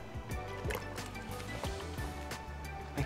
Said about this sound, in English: we're gonna add our water and tomatoes